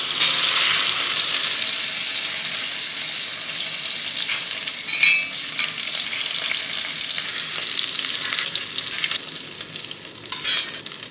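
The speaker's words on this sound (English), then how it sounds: "Now I think the meat has been fried enough." Chunks of beef for Hungarian goulash sizzle loudly in a hot pan, a steady frying hiss broken by occasional scraping and stirring sounds, with no one talking.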